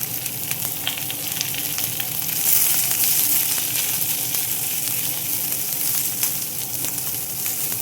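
Onions hitting hot frying oil with mustard seeds and curry leaves for a Telugu brinjal curry, a steady dense sizzle with stirring scrapes, close and continuous without speech.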